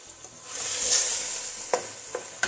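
Seared chicken pieces frying in a pan and being stirred, a steady hiss of sizzling with a few sharp scrapes of the utensil near the end, close and loud with no talking.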